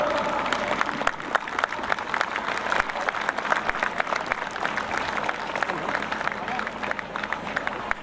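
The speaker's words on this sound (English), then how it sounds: "Round of applause." Audience applause fills a school event hall, steady dense clapping from a large crowd with occasional cheers, continuous and moderately loud throughout.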